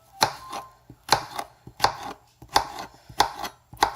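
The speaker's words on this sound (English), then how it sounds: "you can just take your knife and cut these into smaller chunks." A knife chops peeled squash into smaller chunks on a board, six crisp, evenly spaced cuts sounding close and clear with no talking.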